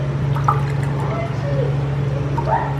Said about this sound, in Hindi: तो मैं इसमें डालूंगा खाली 3 कप पानी